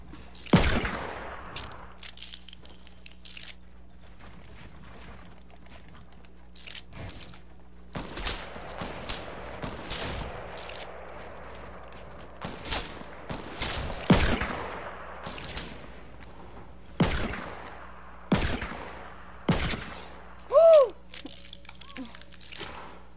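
Sharp, spaced gunshots from a revolver in Fortnite, single cracks repeating every second or two over a quiet game background, with faint voices in between.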